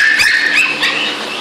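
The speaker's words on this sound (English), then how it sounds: "Some little nervous dogs." Small nervous rescue dogs giving a few high, thin barks and yips close by, with a whimpering edge, in a short burst that fades slightly toward the end.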